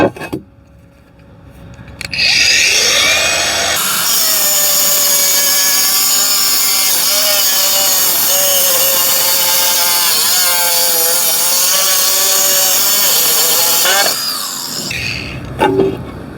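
An angle grinder cuts a curve into a tile, the loud high whine rising and holding steady for around ten seconds with shifting pitch as it bites, then spinning down; no talking over it.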